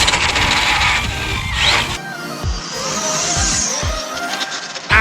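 An Arrma Infraction RC car, set up with a 16S power system, accelerates hard, its motor whining and tires hissing loudly and close, with sharp skidding bursts near the end.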